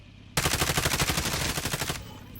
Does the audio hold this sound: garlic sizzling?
no